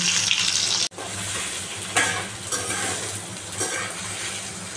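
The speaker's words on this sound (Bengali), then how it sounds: "পটল ভেজে নিতে হবে, সুন্দর করে পটল ভাজতে হবে" Pointed gourd (potol) fries in oil with bay leaf and cumin, giving a loud, steady broadband sizzle. It cuts out briefly just before one second, and a few soft stirring scrapes follow.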